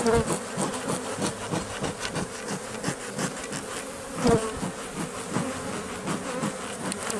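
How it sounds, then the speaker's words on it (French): Many gentle honeybees buzz loudly up close at an open hive, a dense, pulsing drone with individual insects zipping past the listener. "c'est des abeilles qui sont réputées très douces"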